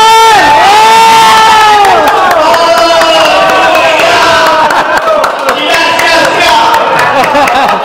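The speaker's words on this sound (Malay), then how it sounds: "semua tepukkan gemuruh" A loud crowd at a Malaysian game event cheers and shouts, with high voices and whoops dominating and some clapping mixed in, sustained and close throughout.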